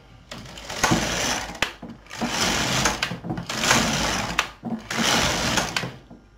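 An LK 150 knitting machine carriage sweeps back and forth across the needle bed in three close, loud passes, each a rushing mechanical whir with short pauses between them.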